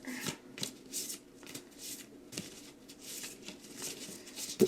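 Tarot cards being shuffled and drawn by hand, a run of soft rapid riffles and slaps repeating in bursts, close and fairly loud with no talking.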